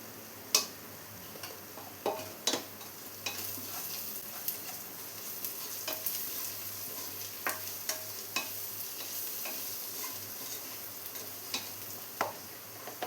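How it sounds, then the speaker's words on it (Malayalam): Ginger and garlic sautéing with turmeric powder in a pan, a steady low sizzle broken by sharp clicks and scrapes of a spoon stirring, spaced irregularly over the whole stretch with no talk. "ഇതൊന്ന് റോസ്മെല്ല് മാറുന്നവരെ ഒന്ന് വഴറ്റി കൊടുക്കാം"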